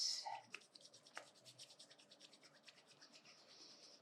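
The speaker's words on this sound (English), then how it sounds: "rub your hands as if you're creating heat" Palms rub together briskly in a quiet room, a soft, dry rhythmic swishing of skin on skin that repeats close up.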